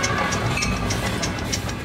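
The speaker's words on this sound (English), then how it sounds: "Do you hear that? It's the idea train." Steady rumble of a passing train with rhythmic clickety-clack, loud and continuous throughout, used as a cartoon sound effect for an arriving idea train.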